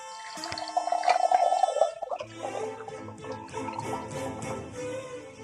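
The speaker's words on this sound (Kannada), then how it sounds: "ಇವಾಗ ಎಲ್ಲ ಕಷಾಯ ಎಲ್ಲ ಬೆಂದೈತೆ ಒಂದು ಲೋಟದೊಳಗೆ ಉಯ್ಕತಾ ಇದ್ದೀನಿ" A hot herbal decoction, a home cough remedy, is poured from the pot into a drinking glass, giving a soft, close trickle and splash that rises in tone as the glass fills, then quieter dripping.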